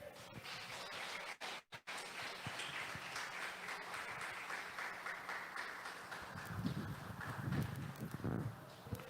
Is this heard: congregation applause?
yes